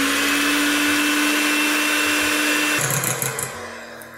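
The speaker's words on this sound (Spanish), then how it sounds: "Empezaré a batirlo con la batidora eléctrica hasta que estén los huevos blanquecinos" Loud, steady whir of an electric hand mixer beating eggs and sugar, running continuously, then winding down and fading near the end.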